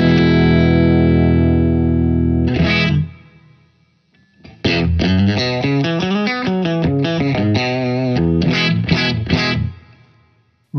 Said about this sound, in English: You can hear that, just that weird attack on the note. That's because of that slow attack there.